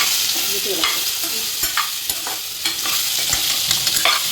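Mango pieces go into a hot pan with turmeric and are stirred, with a steady loud sizzle and repeated scraping stirs up close; no one speaks.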